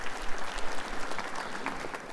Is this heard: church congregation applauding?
yes